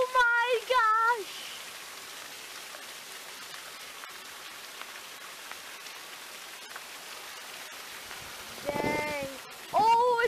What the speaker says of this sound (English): We're getting rained down like crazy.